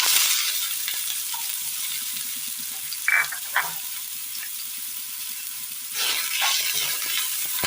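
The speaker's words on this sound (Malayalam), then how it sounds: "ഇതിലേക്ക് കടുകിട്ട് കൊടുക്കാം. ഇത് പൊട്ടി വരുന്ന നേരം സവോള കൊത്തി അരിഞ്ഞത് ഇട്ട് കൊടുക്കാം." Mustard seeds splutter and chopped onion fries in hot oil for a Kerala curry, giving a steady sizzle with a few sharp pops and a brief stirring scrape near the end.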